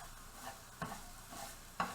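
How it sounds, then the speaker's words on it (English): Cooked rice for pork fried rice sizzles softly as it browns in a pan with extra virgin olive oil, with a few louder stirring scrapes at irregular intervals over the steady low frying hiss. "We're going to brown this rice up a little bit in this pan"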